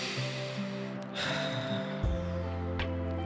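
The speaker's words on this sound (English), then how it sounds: "breathe in," A person takes a slow, deep breath in, a soft airy inhale heard over a steady background of sustained musical tones.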